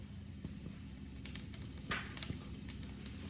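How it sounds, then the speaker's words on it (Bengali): Black cumin seeds (kalo jeere) are tempered in hot oil for an ilish fish curry. A low, steady sizzle sits close by, broken by a few faint crackles and pops. "এবার আমি তেলের মধ্যে অল্প কালো জিরে ফোড়ন দিয়ে দিলাম।"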